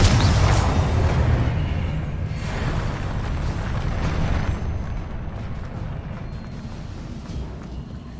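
Confringo blasting spell in the Hogwarts Legacy game, a loud booming explosion with a rumbling roar that fades gradually over several seconds, heavy low-end blast texture throughout.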